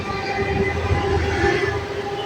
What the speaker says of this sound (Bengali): ট্রেনটা আমাদের কলকাতার বাঘাযতীন স্টেশনের ছবি, কলকাতার লোকাল ট্রেন।